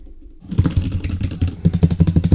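Fingers tap on a desk near an arm-mounted fifine AM8 microphone, a brisk run of close, uneven knocks starting after a brief quiet moment and continuing without speech.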